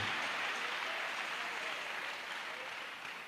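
A church congregation applauds to acclaim Jesus, a dense wash of clapping from many hands, steady and fairly distant, easing slightly toward the end.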